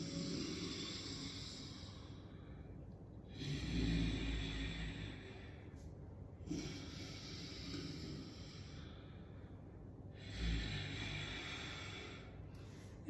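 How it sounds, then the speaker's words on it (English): Ujjayi pranayama breathing through the nose with a constricted throat, slow soft snoring-like breaths, each long inhale and exhale separated by short pauses, quiet and close. "So you can hear the snoring sound."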